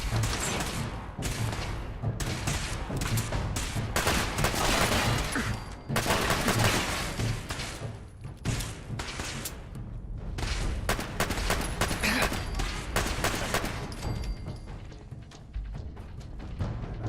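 Pistol fire in a modded Fallout 4 game rattles off in dense, rapid bursts almost without pause, loud and close, with brief gaps between volleys.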